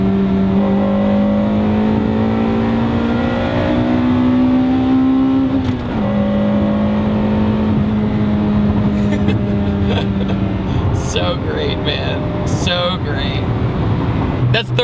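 A Honda Integra Type R pulling hard through third and fourth gear from inside the cabin, a loud rising engine drone that dips briefly at the shift and climbs again, with a voice over the engine near the end.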